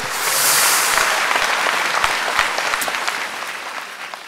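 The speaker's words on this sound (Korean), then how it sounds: "일단 박수로 요 주제는 마무리를 할게요." A live audience at a Seoul public policy talk event claps to close a discussion topic, a loud burst of applause that swells early and then slowly tapers off, with a few sharper individual claps standing out.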